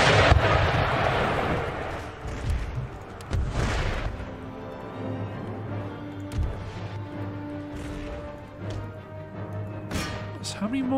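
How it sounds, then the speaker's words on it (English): Artillery and musket fire in the Empire Total War video game: a heavy boom opens, then further dull thuds and crackling volleys roll over a low sustained battle drone at moderate distance. "Artillery,"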